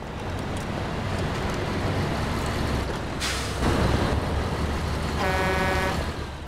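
A truck horn in the video game SnowRunner blares out with a sustained, harmonic tone near the end, over a steady rumbling engine and road noise.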